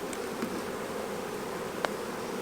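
Honeybees buzzing steadily at an open hive during an inspection, a dense continuous drone close by with a few brief louder passes of single bees, no talking.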